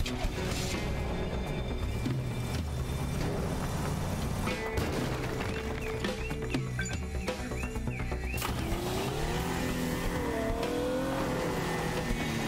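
A car is driven in the video game Teardown, its engine revving loudly and continuously with shifting pitch, with bursts of tire squeal and rattling impacts along the way.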